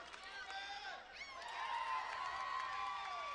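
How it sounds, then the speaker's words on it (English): Home crowd at West Hills Stadium roaring behind Canada in a women's rugby sevens pool match against the USA, a broad, sustained cheer from a large stadium audience that swells louder midway, with a commentator's voice running over it. "listen to the crowd getting behind the Canadians"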